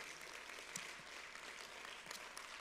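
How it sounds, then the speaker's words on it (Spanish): Applause from a church congregation during a Spanish-language morning service, a steady, fairly faint wash of clapping lasting a few seconds with no voices over it. "Denle un aplauso al Señor"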